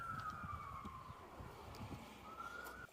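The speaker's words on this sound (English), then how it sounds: "there's the sirens. They're coming for me." A wailing police siren sweeps steadily in pitch, fairly distant, over low rumbling traffic noise, with no voices.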